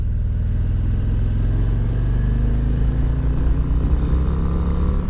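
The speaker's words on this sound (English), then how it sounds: "this motorcycle is so full of power and torque that I don't have to question it at all" A powerful, torquey bagger motorcycle pulls hard on a race track, its engine a loud, close, rising roar that climbs steadily in pitch as it accelerates, with no voices over it.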